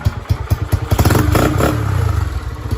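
A Honda Sonic 125 motorcycle engine revving up close, with loud rapid throttle blips that build into a sustained high-revving roar over a couple of seconds, with no talking.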